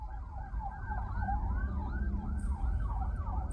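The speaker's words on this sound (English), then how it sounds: "That's a sheriff followed by another sheriff." Sirens of two sheriff's cars wail in a repeating up-and-down pattern from a moderate distance, steady throughout, over a low rumble of road traffic.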